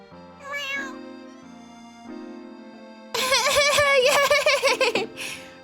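A person imitating a cat with a series of high, wavering meows, starting with a single mew, then a louder burst of rapid overlapping meow-like squeals and giggles, with a soft hum underneath.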